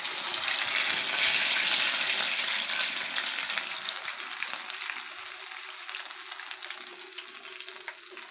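Garelu frying in hot oil, a steady dense sizzle and crackle that stays continuous throughout and eases slightly toward the end, with no voices.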